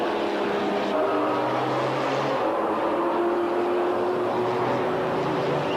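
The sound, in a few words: Corvette race car engine at Monza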